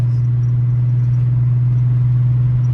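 A 1998 Volkswagen GTI's VR6 engine idles steadily up close, a deep constant hum with a strong low drone and no change in pitch throughout, without any talk.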